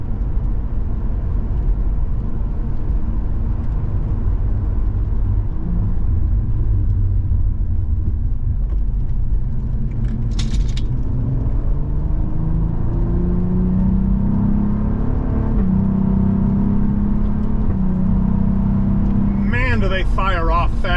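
2023 Cadillac CT4-V Blackwing with a 10-speed gearbox on a wet road, its engine droning loud and steady from inside the cabin as revs climb through paddle-shifted gears, with a brief blip near the end.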